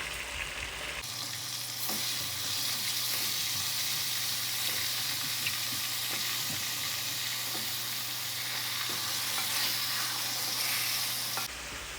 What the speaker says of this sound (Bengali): এখন আমি এগুলো ভালো মতো মিক্স করে নিচ্ছি